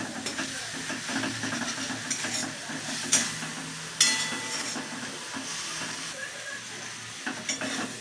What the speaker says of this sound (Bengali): এই যে মশলা ভাজা হয়ে গেছে, তেল ছাড়ছে